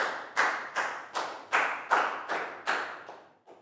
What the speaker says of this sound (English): a big round of applause for Lakau.